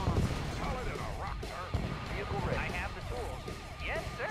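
Grand cannons firing in Red Alert 2, repeated heavy booming shots and blasts mixed with battlefield noise, with game voices talking over the gunfire.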